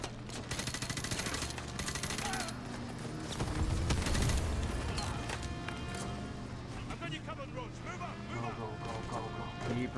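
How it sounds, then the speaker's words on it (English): Rapid automatic gunfire in the Call of Duty: Modern Warfare 2 campaign, a dense, loud, continuous volley of shots with clattering mechanical noise, peaking midway, while voices murmur underneath. "Oh man, I'm shooting Captain McNose."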